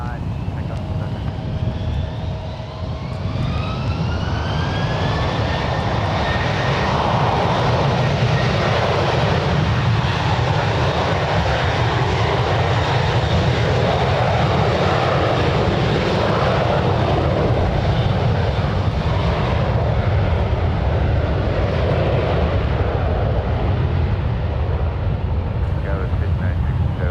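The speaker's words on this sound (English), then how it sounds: "There goes JetBlue 416 off 1 right" A JetBlue Airbus A321 bound for JFK takes off from runway 1 right at San Francisco International, its loud jet engine roar rising in pitch, then holding a steady, powerful drone while voices talk in the background.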